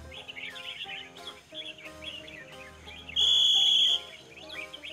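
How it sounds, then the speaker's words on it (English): A caged songbird sings in a bird singing contest, repeated bursts of chirping syllables over background chatter of other birds, with a sustained high whistle partway through. "They have four attempts at singing syllables."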